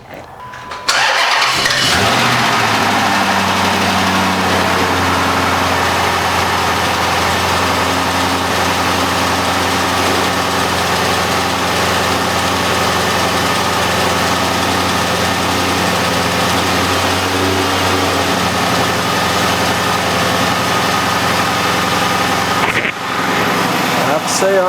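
A Dodge Charger engine cranks and fires on a dry start, then settles into a steady, loud idle that runs on evenly for about twenty seconds before a brief break near the end.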